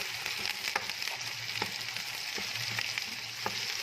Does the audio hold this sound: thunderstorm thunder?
no